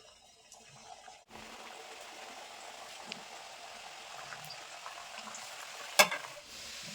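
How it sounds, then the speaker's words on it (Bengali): Khasta goja sweets deep-frying in hot oil: a hushed start, then a continuous bubbling sizzle with faint stirring movements and a sharp clink near the end. "বাকি যে গজাগুলো আছে এগুলো কিন্তু একইভাবে ভেজে নেবো"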